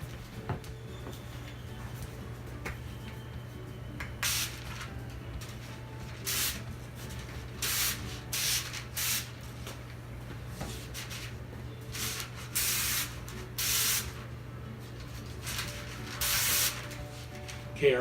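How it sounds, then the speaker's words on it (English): Several short hissing bursts of olive oil spray onto bread dough, spaced irregularly, close by over a steady low hum in a quiet room. "I'm going to spray that with just a little bit of olive oil spray"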